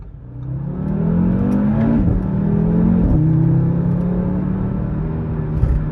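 A 2018 Audi RS3 engine revs up loudly and close, its pitch rising then dropping abruptly as the automatic transmission upshifts, with no talking.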